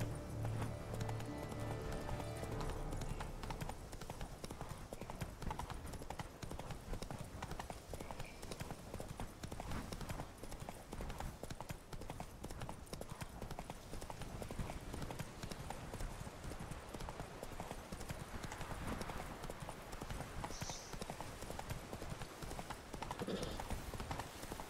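Rapid rhythmic clip-clop of horse hooves galloping continuously in The Witcher 3 over a steady noisy background, close and even throughout.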